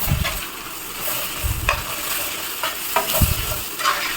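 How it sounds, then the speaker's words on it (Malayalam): Pav bhaji masala being stirred in a frying pan, a steady sizzle with repeated scraping strokes of the spoon against the pan, close and moderately loud, with no talking. "മസാലകൾ ഇതെല്ലാം കൂടെ ഒന്നും കൂടെ ഇളക്കി കൊടുക്കാം"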